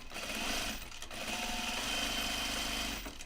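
A sewing machine stitching jeans runs in a steady fast whirr with dense rapid needle clatter, pausing briefly at one second before resuming, close and continuous.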